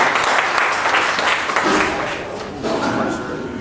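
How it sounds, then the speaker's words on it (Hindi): An audience at an indoor review meeting in a hotel claps in a dense, continuous burst of applause, with a voice speaking over it. "जोरदार तालियों से इस्तकबाल कीजिए।"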